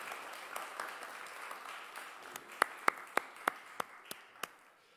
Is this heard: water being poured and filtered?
no